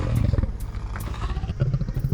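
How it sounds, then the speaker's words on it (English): A deep animal roar in a children's storytelling podcast, a rumbling growl with bellowing swells that rise, dip and return across the moment, loud and close. "Again he heard the roar."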